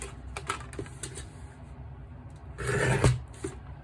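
Trimming the sides of a folded paper card with a trimmer produces soft scraping and sliding rasps with small clicks, rising into one louder cutting swipe near the end, close and quiet, without any talk.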